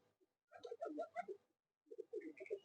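Madrasi pigeon cooing close by, two soft bursts of throaty coos separated by a short pause, quiet and alone.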